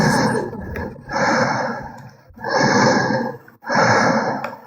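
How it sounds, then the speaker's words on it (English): A sleeping person breathes loudly and heavily from a played-back recording, with three long rasping, sighing breaths in a steady rhythm, close and loud, each followed by a brief pause. "Listen to the breathing."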